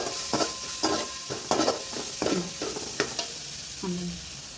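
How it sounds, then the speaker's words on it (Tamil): Spices sauté as oil sizzles steadily in a pan while a spoon stirs and scrapes in an uneven rhythm, close and moderately loud. "இதை ஒரு வதக்கு நல்லா வதக்கிட்டு"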